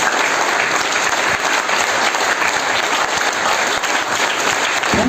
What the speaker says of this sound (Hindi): टेक्निकल के लिए कितनी जोरदार ताली बजाई है आपने।